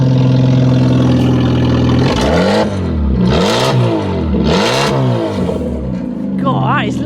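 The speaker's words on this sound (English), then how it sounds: "we're going to see what it sounds like just without any exhaust at all" A Fiat Panda engine with no exhaust fitted idles loudly and raw, then revs up and down several times in deep, rough bursts, close and unmuffled; a voice speaks briefly near the end.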